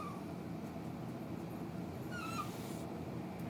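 A dog fusses with faint whimpers and a couple of thin whining cries, quiet and far off under steady background hiss and low rumble.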